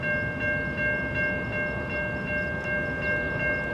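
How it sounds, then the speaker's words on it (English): Eastbound freight train passing at 14th Avenue West, a steady loud rumble of rolling cars with a sustained high ringing tone, likely a crossing bell or horn, close by and continuous. "Okay, another unexpected train."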